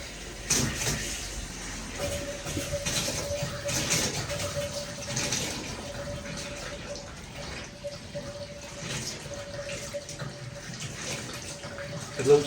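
Water gurgles and bubbles through a newly connected household water pipe that joins an old lead pipe and is full of air, a steady rushing, burbling flow with irregular spurts, heard fairly close and continuing throughout.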